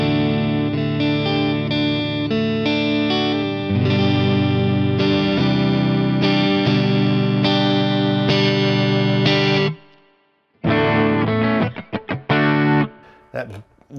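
Inexpensive electric guitar with ceramic, non-staggered pickups, heard clean as strummed chords and single-note runs ringing loud and close, then a brief silence before a few sharper picked notes and a quick strum.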